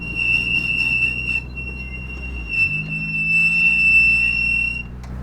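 Worn brakes on an all-wheel-drive turbocharged Mitsubishi Lancer Evolution let out a thin, constant high-pitched squeal that rings steadily for several seconds over low road and engine rumble.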